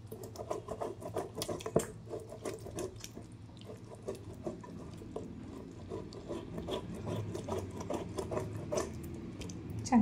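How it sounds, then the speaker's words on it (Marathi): A ripe mango is grated by hand for aamras, giving a steady, fairly loud rasping and scraping with quick irregular strokes and soft wet patter, continuous throughout with no voices. "छान किसून घ्यायचं."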